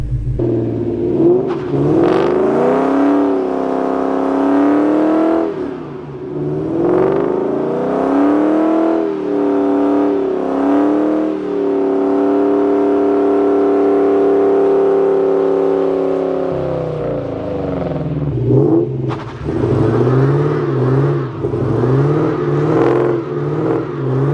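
A Ford New Edge Mustang revs hard during a burnout, its engine held at a loud, sustained roar with rising and falling pitch, a long steady high-rev stretch, then a brief drop and renewed revving, close and dominant.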